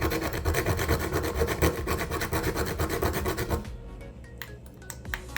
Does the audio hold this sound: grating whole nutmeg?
yes